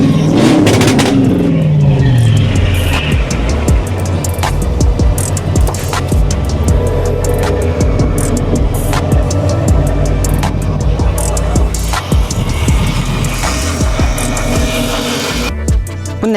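A Mercedes-engined drift car revving hard and close, its engine roaring continuously with rising and falling pitch sweeps and loud gear-driven surges throughout.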